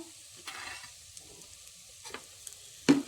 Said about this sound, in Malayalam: എന്നിട്ട് ഒന്നുകൂടി ഒന്ന് വഴറ്റി കൊടുക്കാം